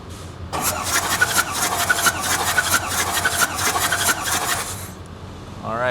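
A car engine cranks over on the starter during a compression test, a fast rhythmic chugging lasting about four seconds, then cutting off before a short noise at the end.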